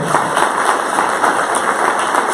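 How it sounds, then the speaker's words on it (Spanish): A lecture audience at a university gives a minister a dense, steady round of applause, many hands clapping together close and loud with no pauses. "Le damos un aplauso, por favor."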